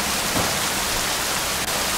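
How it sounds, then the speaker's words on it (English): Rain falling steadily on a construction site during prefab work, a dense close hiss that stays even and unbroken for the full stretch. "prefabbing in the rain"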